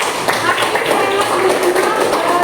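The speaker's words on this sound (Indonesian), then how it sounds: "Ya, tepuk tangan untuk lagi ya." A classroom of students claps hands together in a short, close burst of uneven claps and taps, with voices mixed in underneath.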